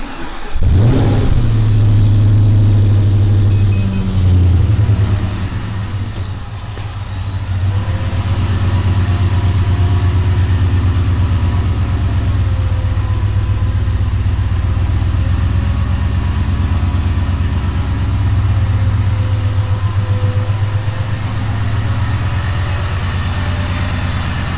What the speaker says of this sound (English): She idles beautifully.